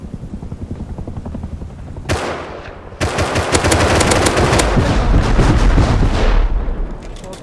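Rust video game gunfire, first a run of rapid single shots, then a sudden loud, sustained automatic burst with heavy booming that rolls on for several seconds before easing.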